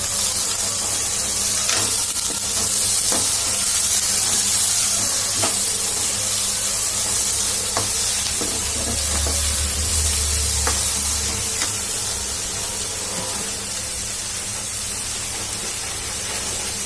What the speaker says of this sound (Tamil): தக்காளியை போட்டுக்கணும், கொஞ்சம் கருவேப்பிலை, புதினா எல்லாத்தையும் போட்டு நல்லா வதக்கணும்.